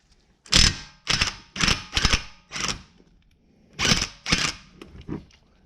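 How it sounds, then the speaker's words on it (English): Impact gun driving a 13 mm socket on a brake bolt of a Mini Countryman, loud close bursts: two pairs of short rattling hammer blasts, a few more rapid hits, then after a pause another pair of bursts. "I'm going to use a 13 on my impact gun, and just with the shot I should be able to break it free"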